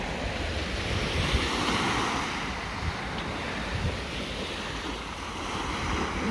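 Surf breaking steadily on the clear sea at the Aslıhan Motel beach in Anamur, Mersin, on a Turkish coastal evening: a continuous washing roar of waves with wind buffeting the microphone, no voices.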